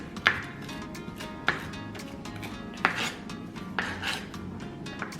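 A knife cutting onions on a board for fish tacos, with sharp periodic chops about once a second over a soft scraping background, close and moderately quiet.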